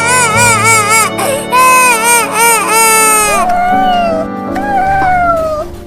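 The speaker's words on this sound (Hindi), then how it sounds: "अरे वो छोटी बिल्ली को क्या हो गया? वो तो बहुत रो रही है।" A cartoon kitten cries in a run of loud, wavering, high meows close up, then trails off into softer whimpering cries.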